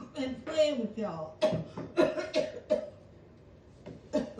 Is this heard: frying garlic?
no